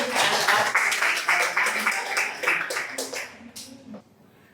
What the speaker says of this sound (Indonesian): beri tepuk tangan sekali lagi untuk Abi